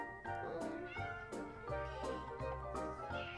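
A cat meows repeatedly, several drawn-out, whiny calls in a row, fairly close and clear with no talking.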